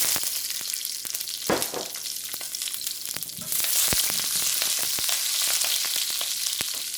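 Chopped onions sizzling and frying in a little oil in a pan for black pepper steak, a steady bright crackle with a louder burst as they hit the oil and occasional stirring clatter.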